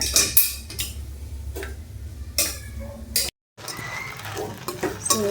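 Okra stir-fry (bendekayi palya) being stirred in a pan in a home kitchen, with repeated scraping strokes and light sizzling, a few sharp clinks of the utensil against the pan, and a brief silent gap partway through.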